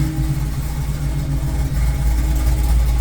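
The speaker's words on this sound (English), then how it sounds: "I don't think I've ever run the car long enough for the fans to turn on" A car engine idles with its cooling fans running, giving a loud, steady low rumble and constant whirring close by, with no talk over it.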